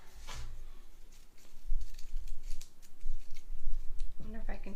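Scissors snip through tulle on a pumpkin in a crafting setting, with several crisp, close cuts while a person talks.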